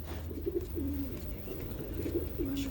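Pigeons coo softly nearby, low rolling calls repeating in short phrases over a steady background hum.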